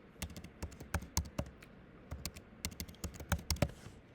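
A password is typed on a computer keyboard: a close, irregular run of crisp key clicks, some in quick bursts and some spaced apart, with no talking.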